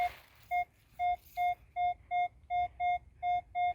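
A metal detector sounds off in a field in the Czech Republic, giving a repeating electronic beep: about nine short, evenly spaced pure-tone pulses, clear and close over faint background rustle.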